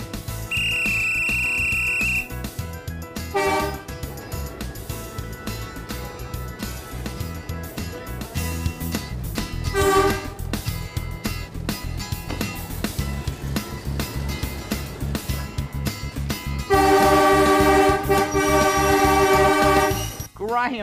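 A steam train whistle sounds at the start as it departs, followed by chuffing and mechanical rumbling, then a long, loud whistle blast near the end.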